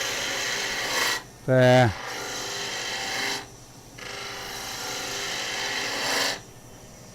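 Spindle gouge cutting into wood on a lathe during stock removal, a steady close rasping whir running through most of the stretch with brief gaps as the tool lifts off, and a short spoken word near the start.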